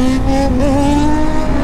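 Kawasaki Z900 motorcycle being ridden, a loud close engine note holding a steady pitch with a brief wobble as the revs shift, continuous with no talk.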